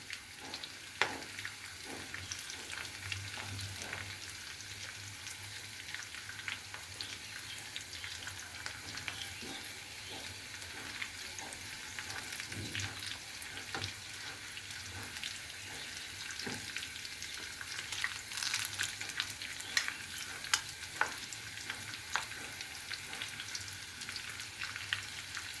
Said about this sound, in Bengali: চুলার আঁচটা কিন্তু লোতে রেখে ভাজতে হবে,